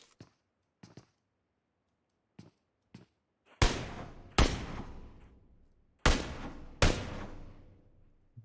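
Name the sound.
gunfire in video game PUBG Mobile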